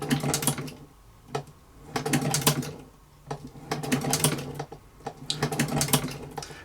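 A 1921 Singer 29K boot patcher sewing machine stitches as its wheel is turned by hand, producing close bursts of rapid mechanical clacking that come in uneven runs with short pauses between them.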